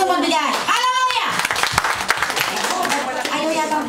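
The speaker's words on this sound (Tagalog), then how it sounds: "Pumalakpak ang gusto magbigay" A church congregation claps and applauds, dense steady clapping under a raised voice that speaks over it, with crowd noise throughout.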